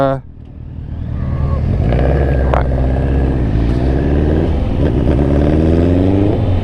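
A SINNIS Terrain 125cc adventure motorcycle engine starts and settles into a steady, loud idle, running close by for several seconds.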